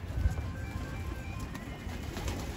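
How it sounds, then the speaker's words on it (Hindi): Pigeon held in the hand after being caught on a rooftop, giving soft low coos over faint background noise. "देख सकते हो ये पकड़ा है कबूतर अभी जो छत पे बैठा था आगे, ये रहा हाथ में।"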